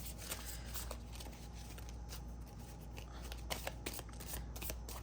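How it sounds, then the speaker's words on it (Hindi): Tarot cards are shuffled and drawn by hand in a quiet room, giving a soft, continuous papery riffling and sliding with a few faint flicks, low in level throughout. "अब मैं निकालती हूँ थोड़े से और कार्ड।"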